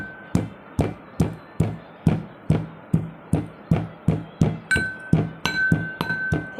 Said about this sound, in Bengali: আমি একটা হাঁপানদিস্তা নিয়ে নিয়েছি। এর মধ্যে আমি দিয়ে দেব 1 টুকরো আদা আর দিয়ে দিলাম 3 টুকরো এলাচ। এবার আমি থেতো করে নেব।